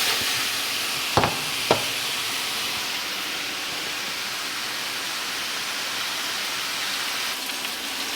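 Pork shoulder being flipped and stirred in a pot gives a steady broadband sizzle throughout, with two sharp scraping knocks early on and fainter clatter near the end; no talking.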